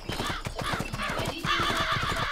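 Horse hooves clip-clop in a steady, quick rhythm with repeated neighing and whinnying from a horse in the video game Six Guns, loud and close throughout with no talk.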